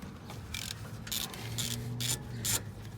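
Ratcheting, grinding metal clicks from a long breaker bar working a rear brake bolt loose on a BMW E46, in four evenly spaced bursts over a low steady hum, fairly close and moderately loud.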